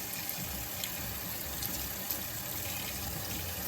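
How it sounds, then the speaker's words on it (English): Hot water runs from a tap in a steady, hissing stream while mouse cage items are rinsed out, a continuous close splashing with no talk. "I also empty out whatever's in here and wash it out with hot water"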